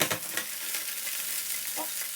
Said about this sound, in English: In with a nice bit of oil and my asparagus.